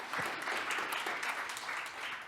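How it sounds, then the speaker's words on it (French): An audience at a French conference on Microsoft 365 insider threats applauds a speaker, a steady, moderately distant wash of clapping that holds evenly throughout. "On peut l'applaudir encore."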